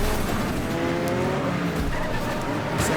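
Race cars from the video game Next Car Game roar and skid, with tires squealing over a dense, constant engine drone, loud and busy throughout.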